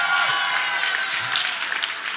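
Sustained applause from a live audience at a conference stage event, a dense steady wash of many hands clapping at close range with no voices over it.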